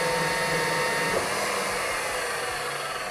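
An Eastwood Pro tubing notcher cuts a 45-degree notch in a metal tube, giving a steady, loud, continuous grinding whir that runs unbroken and close with no voices.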